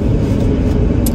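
Steady road traffic rumbles close by, a continuous low wash of passing car engines and tire noise with no pauses and no voices over it.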